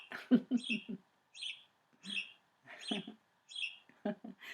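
A bird song plays from a sound book in short chirpy phrases separated by brief pauses, clear and close, with no talking.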